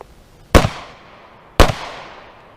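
Two loud handgun shots fired about a second apart, each a sharp crack with a short ringing decay, in an indoor bedroom test of self-defense firearms.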